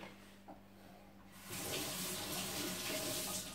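A kitchen tap turned on for hand washing, a faint hum giving way to a steady, close rush of running water splashing into a sink.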